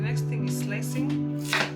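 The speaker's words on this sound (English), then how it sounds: "The next thing is slicing." A knife slices through peeled kohlrabi on a board, giving a few crisp, close chopping strokes over a steady low hum.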